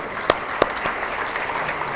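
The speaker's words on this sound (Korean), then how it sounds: "우리 한번 다시 한번 박수로 하나님께 영광 드립니다" An audience at a church award ceremony applauds, a steady wash of clapping with a couple of sharper, louder claps near the start.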